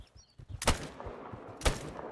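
Two sharp, booming hunting rifle shots from theHunter: Call of the Wild, about a second apart, ring out over a quiet outdoor backdrop with a faint bird chirp.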